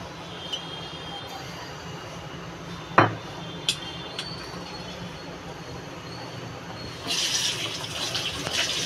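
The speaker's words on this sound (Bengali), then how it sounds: "কড়াইটা গরম হয়ে গেছে বন্ধুরা, সরষের তেল দিয়ে দেবো।" Mustard oil goes into a hot wok: a few sharp metallic clinks and taps come first, then a bright, hissing sizzle bursts in and continues loudly over the final seconds.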